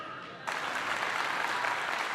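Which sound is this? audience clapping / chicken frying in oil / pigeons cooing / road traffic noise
audience clapping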